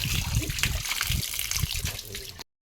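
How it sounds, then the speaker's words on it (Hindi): Water running at a hand- and foot-washing spot near the gate of a Mahasu Devta temple in Tiuni, Dehradun, splashing and trickling steadily up close, with a voice heard alongside it before it cuts off. "हाथ पाँव धो सकते हो, पानी।"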